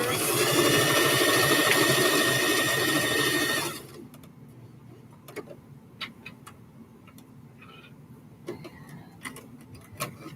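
An old, heavily worn sewing machine stitching hair scrunchies, a loud continuous rapid mechanical whirr for a few seconds that stops abruptly, leaving faint scattered clicks and handling taps in a quiet room.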